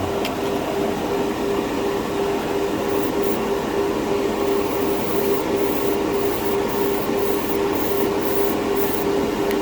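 Continuous hiss of an aerosol can spraying bright red enamel paint onto a primered spoon, a steady broadband rush with no talking.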